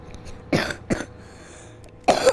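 Three separate coughs from a character in the video game Knack, two close together early and a third after a pause, each a short rough burst heard clearly over a quiet background.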